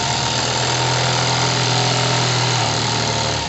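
A live-steam model test engine revs up, giving a loud, close, dense mechanical drone with a steady pulsing hum that shifts slightly in pitch toward the end.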